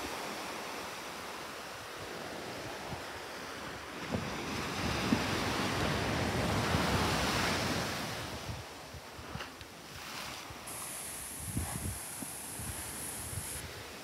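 Ocean surf rolls in steadily on a beach at Santa Cruz, California, with a constant wash of waves and wind buffeting the microphone, a few louder breakers rising and falling.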